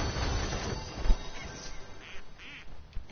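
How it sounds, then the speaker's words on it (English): A duck quacking outdoors near an ice cream area, several short faint nasal quacks scattered over a noisy background with a brief thump early on. "It's a duck."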